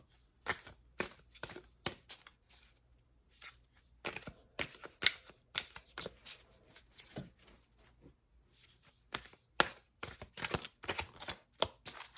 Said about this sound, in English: So instead of pulling 4 cards, I'm going to pull 5